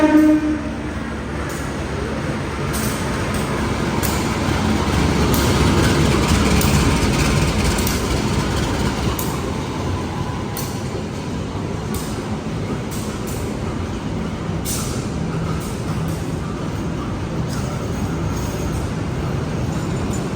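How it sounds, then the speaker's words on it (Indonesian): Bangunkarta economy-executive passenger train from Jombang to Jakarta Pasar Senen rolling in to platform 1 at a station. A loud, steady rumble and wheel roar holds for about twenty seconds, with no voices. "Yang akan masuk di jalur 1 di sebelah sana adalah kereta api Bangunkarta dari stasiun Jombang tujuan stasiun Jakarta Pasar Senen"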